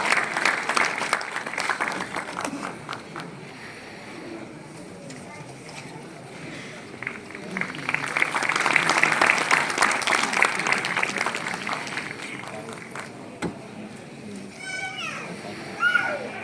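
Audience applause for award winners at a National Milk Day ceremony, clapping swelling and fading in waves, with voices and chatter mixed in and a louder burst around the middle.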